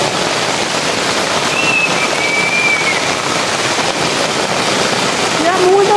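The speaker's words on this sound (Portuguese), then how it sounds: "Meus amigos, é chuva, é muita chuva, chuva, chuva." Heavy rain pours steadily in the Amazon jungle beside a bridge, a dense, loud, continuous hiss drumming on a tarp overhead, with faint bird calls.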